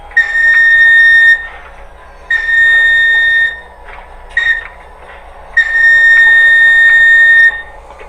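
A model train locomotive's SoundCar decoder whistle sounds in three long blasts and one short toot, steady electronic tones over a low hum.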